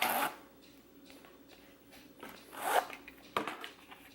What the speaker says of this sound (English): It has the zipper pull, which is nice.